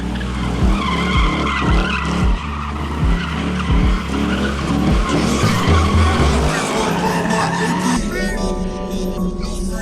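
Tires squeal and skid continuously as a car spins donuts at an underground car meet in Detroit, with rhythmic engine revving pulses, loud and close throughout, a crowd murmuring underneath.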